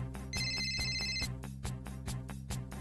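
A phone rings with an incoming call, playing a melodic ringtone in repeating pulses that fill the whole moment, fairly close, with no voices.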